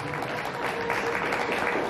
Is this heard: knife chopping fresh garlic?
no